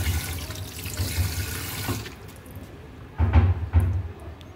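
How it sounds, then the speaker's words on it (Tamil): Tap water splashing over brass pooja utensils being rinsed in a sink, a loud steady gush that cuts out briefly, then returns in a closer burst of splashing. "tap water, normal tap water use பண்ணி நல்லா வாஷ் பண்ணுங்கள்"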